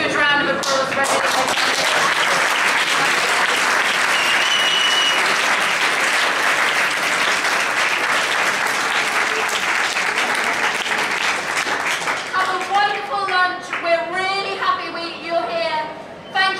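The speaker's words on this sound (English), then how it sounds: "We really need to give them a huge round of applause for this." A dense, steady round of applause from a crowd at a slow food eat-in greets student volunteers, then fades as a voice begins speaking near the end.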